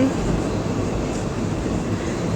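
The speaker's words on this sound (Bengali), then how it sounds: "আমাদের ট্রেন ছেড়ে দিয়েছে, স্লোভাবে চলছে।" A passenger train rolling slowly just after pulling out before dawn gives a steady, close low rumble with an even wash of rail noise that holds throughout, with no clear breaks or clacks.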